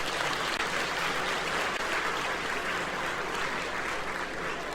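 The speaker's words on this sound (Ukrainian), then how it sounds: "Отримують оплески хлопці." Steady applause from a crowd fills the whole stretch, dense and even without pauses.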